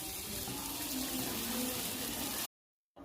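Water is poured from a tap into a cooking pot in a steady, close rush that cuts off abruptly after about two and a half seconds, with no voices.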